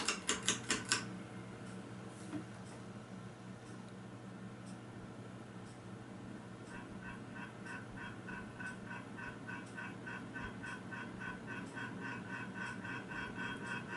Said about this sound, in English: That noise is not coming from the fan itself, it is coming from the light that is on the fan.